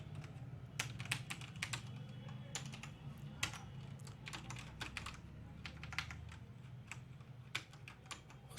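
Keys clatter on a computer keyboard as an email address is entered into an online application form, steady bursts of quiet, close clicks over a low background hum.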